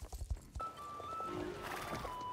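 A horse walks along in Star Stable Online, soft clip-clop hoofbeats stepping in a loose rhythm up close, followed by a steady wash of ambient game sound with faint tones.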